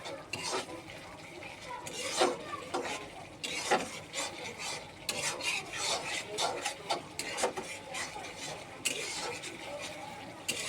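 Spices and onion fry in a pan while a utensil stirs and scrapes in repeated irregular strokes, close but fairly soft, over a steady low sizzle.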